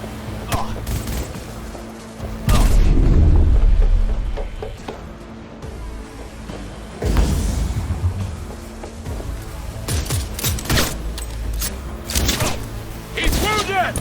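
Gunfire during a firefight in the video game Cyberpunk 2077, with loud booming bursts and scattered shots close by, thumping impacts between volleys, and voices shouting over the action.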